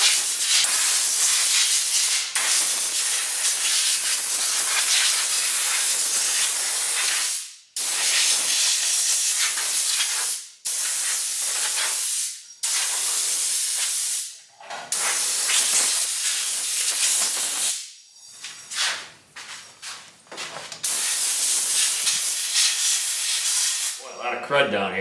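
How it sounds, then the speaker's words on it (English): Compressed air hisses in long loud blasts over a rusty vintage 10-inch Atlas table saw being cleaned of dust, each burst cut off by short pauses, with a final sputtering release. "let's try the compressed air again."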